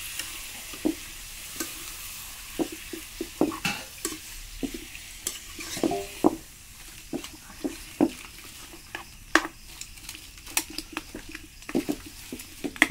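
Fatty village duck meat frying in a pan for an Assamese curry: soft, steady sizzling under irregular scraping and pattering taps as the pieces are stirred, fairly quiet and without talk.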